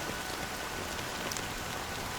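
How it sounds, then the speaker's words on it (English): Steady rainfall in the video game Honkai: Star Rail, a dense, even hiss of rain on surfaces that holds constant throughout, with no voices. "it's still raining"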